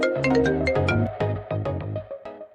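A phone rings with a bright, melodic ringtone that plays a quick tune of repeated notes, clear and close, with no voices over it.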